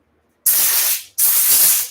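Two loud, close bursts of compressed air from a blow gun clearing out a socket during an engine assembly, each a sharp broadband hiss lasting about half a second, with a brief gap between them.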